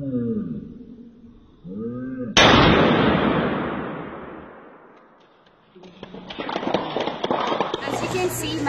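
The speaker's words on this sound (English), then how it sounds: "As you can see, my husband just shot me." A single loud gunshot fired at a woman wearing a Miguel Caballero MC Armor bulletproof tank top, a sharp blast that rings out and decays, with voices and rustling before and after it.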